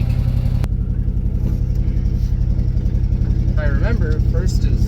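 A 1965 International truck's engine chugs steadily at low speed, loud and close. Someone talks over the rumble and there is a brief sharp knock near the start.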